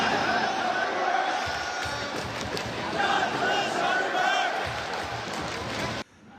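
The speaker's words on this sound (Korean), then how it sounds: "관중들이 갑자기 일본인에 대한 적개심을 담은 구호를 외칩니다." A stadium crowd at a Chinese professional football match in Qingdao chants hostile slogans, a dense roaring mass of voices that swells and pulses rhythmically before cutting off abruptly.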